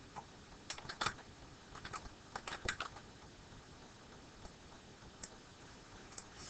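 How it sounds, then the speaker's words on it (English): Faint keystrokes on a computer keyboard as the word Portland is typed: a short quick burst of clicks, then a few isolated taps over a quiet background hiss. "So go ahead and type Portland right here."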